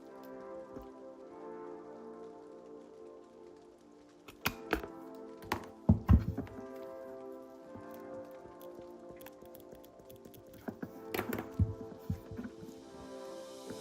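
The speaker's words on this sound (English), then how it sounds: "go ahead and get your crocodile or hole punch and make a hole there" A Crop-A-Dile punch bites through paper, giving a few sharp, close clunks and snaps in separate bursts over a steady tonal background.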